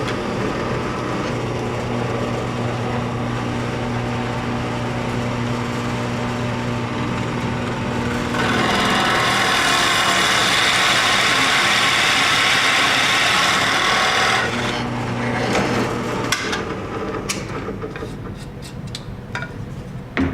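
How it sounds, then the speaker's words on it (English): A drill press runs with a steady motor hum, then a Forstner bit bores a test hole into scrap wood, adding a louder grinding, rubbing cut for several seconds before the spindle winds down with light clatter. "I'm going to make a test cut, or a test hole with this Forstner bit now"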